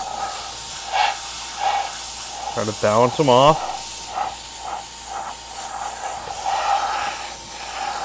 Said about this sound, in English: Now notice I'm spraying on the tape here, more so.